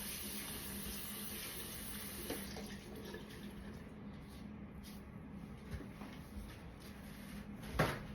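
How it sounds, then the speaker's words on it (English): Gloves rinsed under a running tap during a hair retouching session, a quiet steady stream of water with faint clunks and a sharper knock near the end, close by and no talking. "it's not a problem to rinse these gloves off as I continue my process."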